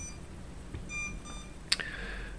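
An MJX Bugs 2W drone sitting idle before takeoff gives a few thin electronic beeps, faint over quiet room tone, followed by a sharper chirp and a sustained tone.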